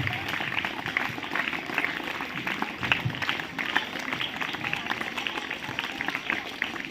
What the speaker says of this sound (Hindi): जोरदार ताली बजाइए ताकि जोरदार पावर पैदा हो